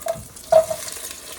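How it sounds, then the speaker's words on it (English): Beef stew ingredients such as carrot and onion hitting a hot pan, a short sizzle with a brief stirring scrape, close and fairly loud with no talking. "So now that the pan is nice and hot, this is where I'm going to add all the ingredients."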